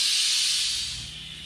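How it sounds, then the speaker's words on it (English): An Instant Pot vents steam while depressurizing after cooking chicken, giving a steady loud hiss close by that starts strong and slowly fades. "This undoubtedly is depressurizing a lot quicker, one because it didn't cook as long"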